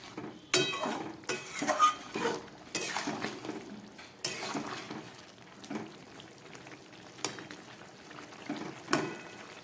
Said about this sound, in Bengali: সবজিটা ফুটে উঠেছে